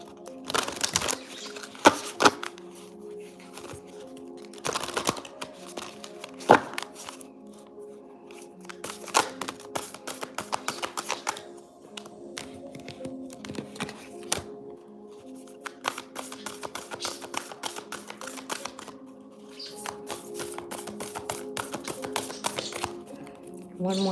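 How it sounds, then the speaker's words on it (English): Cards are shuffled repeatedly in crisp riffling bursts and taps, close by, with short pauses between rounds and a faint voice now and then. "One more shuffle, Spirit."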